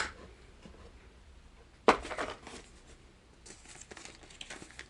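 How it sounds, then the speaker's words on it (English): An empty plastic bag is handled close by, giving a sudden sharp crinkle followed by softer rustling and crackling bursts. "Empty plastic bag."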